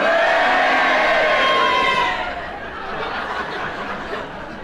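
A radio studio audience erupts in loud mixed cheering and booing that swells, then drops after about two seconds to a lower rumble of crowd murmur and scattered laughter.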